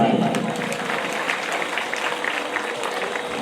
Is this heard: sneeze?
no